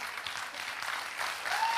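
Steady crowd applause from an audience at a motivational seminar, dense and fairly loud throughout a short stretch with no talk over it.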